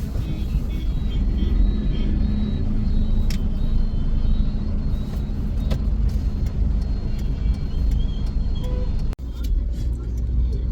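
Busy road traffic beside fruit and flower stalls near a temple, a steady loud rumble of cars and buses passing close by, with an occasional air-brake hiss and brief voices mixed into the din.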